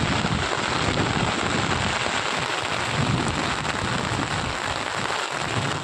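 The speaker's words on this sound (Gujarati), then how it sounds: "જો વરસાદ ધમાકેદાર." A heavy downpour with thunder in Banaskantha, Gujarat hisses steadily and loudly throughout, with a low rumble running underneath the rain.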